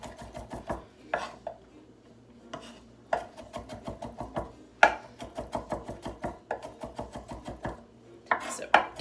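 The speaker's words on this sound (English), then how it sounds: "So keep chopping." Knife chopping garlic on a cutting board for guacamole: quick bursts of close, crisp taps, pausing every second or so, with a few sharper board knocks mixed in.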